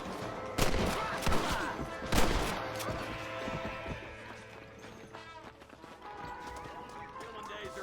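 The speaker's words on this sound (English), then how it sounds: "Not a bad shot, Mr. Marston." Gunfire in the western video game Red Dead Redemption, a few sharp shots early on mixed with hoofbeats and movement, followed by a quieter stretch where voices talk.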